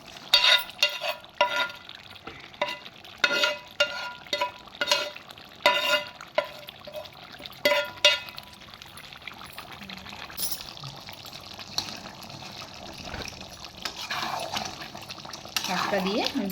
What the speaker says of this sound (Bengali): শাকটা দিয়ে আমি ভালোভাবে এটা নাড়িয়ে দেবো।